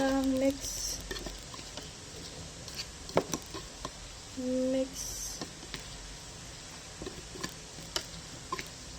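A sushi bake mixture is stirred by hand, heard as quiet, irregular scraping and clicking strokes at close range, with a couple of short tonal sounds in between.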